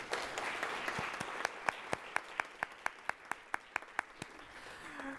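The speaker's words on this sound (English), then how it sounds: "let's give them a round of applause before we get everything going" Audience applause at a Central Ohio AI event, heard as sparse, evenly spaced claps that stand out above a low crowd murmur before fading after a few seconds.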